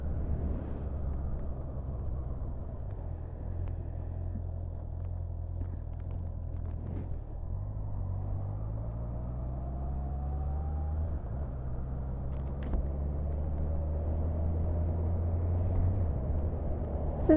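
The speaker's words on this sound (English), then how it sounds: "I thought I'd go for a ride on one of the geared bikes" Low, steady engine rumble of a Honda CB650R motorcycle being ridden through town and country roads, heard close from the rider's position with wind noise. The engine note rises and shifts through the gears as the bike accelerates.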